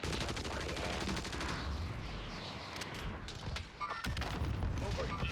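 LAPA SMG fired from the hip in a video game: a rapid, steady stream of close, loud automatic gunshots runs through most of the clip, with a brief lull and another burst near the end.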